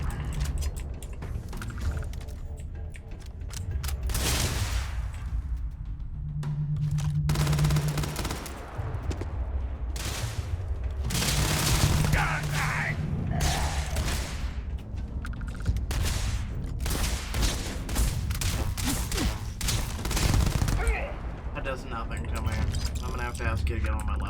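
Ship-mounted turrets fire bursts of gunfire in Starfield, rapid repeated shots in uneven volleys with a person talking over much of the action.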